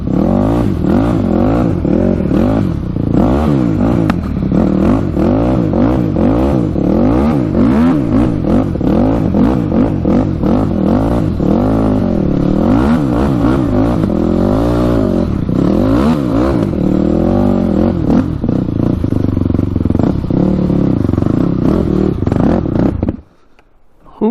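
Yamaha YFZ 450 race quad engine revving hard and continuously, loud and close, with rising and falling pitch sweeps and clattery mechanical noise, cutting off abruptly near the end.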